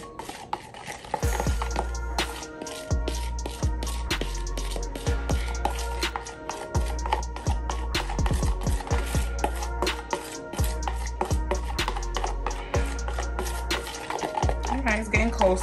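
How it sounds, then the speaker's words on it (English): Clumpy Heritage Store face mask being stirred in a small container, a steady run of quick scraping and clinking strokes against the sides, close and fairly quiet, with no talking over it. "I'm stirring pancakes."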